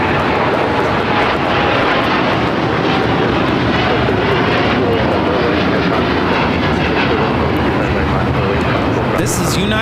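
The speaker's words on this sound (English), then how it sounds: "This is United Airlines" A United Airlines Boeing 787-9 Dreamliner takes off at LAX, its engines producing a loud, continuous broadband roar that fills the whole stretch.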